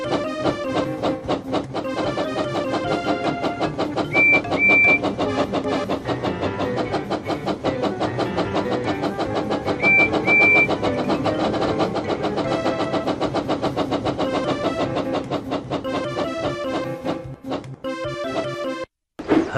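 A loud, steady engine roar of Percy the tank engine racing in a Thomas and Friends: Hero of the Rails video game runs under busy, upbeat game music, holding at constant strength until it cuts out briefly near the end.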